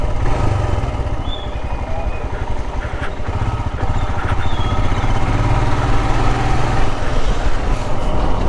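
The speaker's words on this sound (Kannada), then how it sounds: "ಬೈಕ್ ಮಾತ್ರ ಸಕ್ಕತ್ತಾದುಂಡು" A Himalayan motorcycle runs on a road near Guruvayanakere lake in Belthangady, its steady, close engine drone continuing without a break, with faint wind-like noise mixed in.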